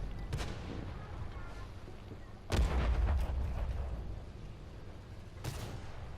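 Artillery shells firing and exploding in the tank game World of Tanks, played on a big open map: a few heavy booming blasts with rumbling tails, separated by quieter stretches of background battle noise, with no voices.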